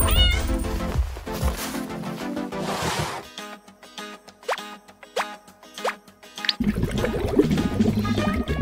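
A cat meows several times in rising, drawn-out calls, close and clear, separated by short pauses, with busy background noise and music before and after.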